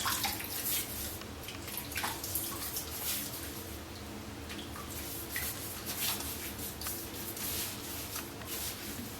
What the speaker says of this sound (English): I'm going to go ahead and take the bloom water and add it to my face.